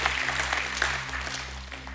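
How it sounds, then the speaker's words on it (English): Congregation at a church service claps in praise, a moderate wash of many hands over a steady low electrical hum, fading slightly toward the end. "give God the hand, clap of praise"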